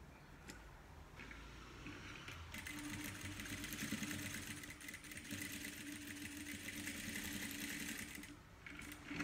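Domestic sewing machine stitching seams on a fabric kitchen oven mitt, a fast continuous mechanical whirr and needle clatter that starts after a few short bursts, runs steadily close up, then briefly drops before resuming.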